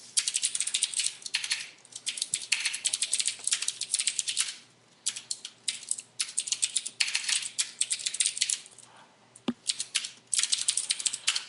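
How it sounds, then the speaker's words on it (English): Rapid, uneven typing on a computer keyboard while coding in C#, with close, crisp clustered keystrokes in bursts and brief pauses, no voices. "mindless typing that I seem to be very bad at right now"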